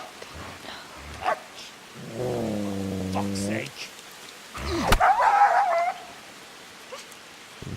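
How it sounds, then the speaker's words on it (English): A dog in the medieval role-playing game Kingdom Come: Deliverance gives a drawn-out bark and whine, followed by a rough burst of sound, while a man swears briefly. "isn't that the barking that attracted Henry?"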